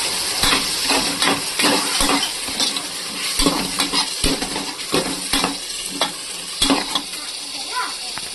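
Mushroom biryani masala stirred and mixed in a pot, repeated scraping strokes of a spoon in a rhythmic pattern over a constant frying sizzle, close and fairly loud.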